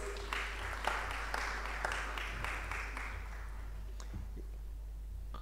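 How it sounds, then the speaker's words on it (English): Audience at a digital transformation event giving a participant a round of applause, sparse irregular clapping at moderate distance that tapers off into a few last claps. "Let's give her a round of applause."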